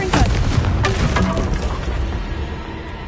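A loud, booming Confringo spell blast from Hogwarts Legacy erupts at once and rumbles away over a few seconds in a continuous game explosion.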